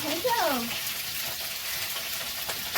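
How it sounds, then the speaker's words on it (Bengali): Cauliflower frying in a pan gives a steady, close hiss of sizzling oil that runs through the whole moment, with a short whistling tone near the start. "ফুলকপি ভাজা চলছে"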